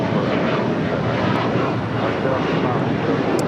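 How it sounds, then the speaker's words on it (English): A KLM Boeing 787-10 Dreamliner arriving at LAX from Amsterdam gives a steady, loud, broadband jet roar that holds evenly throughout. "Coming in from Amsterdam on this 787-10 Dreamliner."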